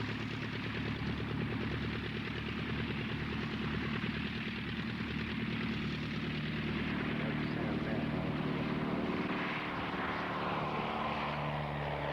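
A Rapide propeller biplane, flown by Neil Perry at a 1999 agricultural aviation reunion air display, drones steadily overhead for the whole stretch with a constant engine hum and a gentle shift in pitch partway through.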